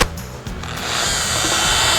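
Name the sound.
sanding chipped glass sink with 220 metal paper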